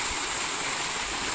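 Steady rushing water pours without pause, a dense, even roar of a waterfall coming down from a mountain, heard from fairly close.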